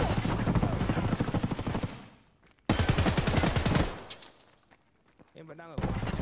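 Rapid gunfire bursts from the video game Escape From Tarkov, loud and dense, broken by a short silence and then another sustained volley, with speech mixed in beneath the shots.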